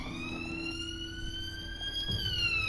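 Police sirens in a video game wail steadily with a bright, slowly shifting electronic tone, fairly quiet and continuous, with low game rumble beneath and no talking.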